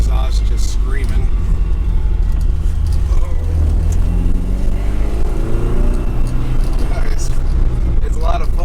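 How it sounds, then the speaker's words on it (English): A 1976 Alfa Romeo Alfetta GT's small exhaust drones and strains loudly and steadily throughout, close by, as if heard from inside the cabin while driving. "Obviously, you hear that little exhaust just screaming."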